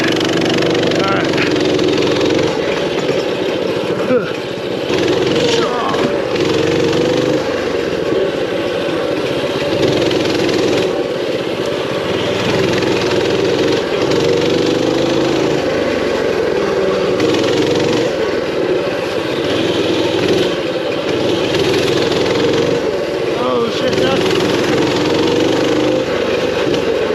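A minibike's small engine drones continuously at close range, rising and falling with the throttle as the bike is ridden, and a voice talks over it at times.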